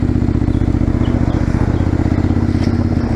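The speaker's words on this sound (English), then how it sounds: "All I really need to do is push the drive button, and away we go." A midsize motorcycle fitted with an aftermarket exhaust pipe pulls away, its loud, steady engine note close by and filling the whole stretch without any talk.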